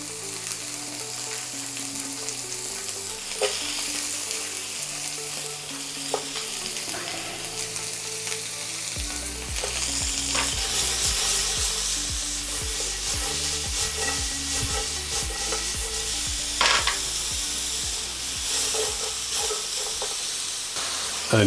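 Peppers and carrots stir-frying in a hot pan for pork chow mein, giving a continuous loud sizzle and hiss with scraping stirs and steam bursts, while soft background music plays.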